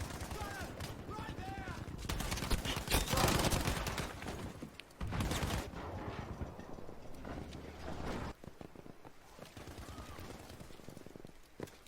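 Gunfire in a competitive Battlefield V match on PS4: dense, rapid bursts of shots and explosions, with a commentator talking over the action throughout.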